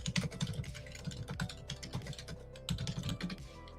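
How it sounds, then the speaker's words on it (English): Rapid, uneven clatter of typing on a computer keyboard, close and fairly quiet, with brief pauses. "Don't mind my typing sounds."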